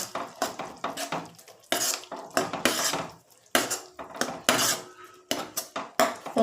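A spoon clatters and scrapes against a pot while stirring peanut bhajiya curry after coriander is added, a loud run of sharp metallic knocks in quick, uneven bursts with no voices.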